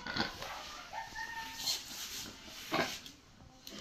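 Faint clucking of chickens in a noisy outdoor setting, a few short calls scattered across a hissy background.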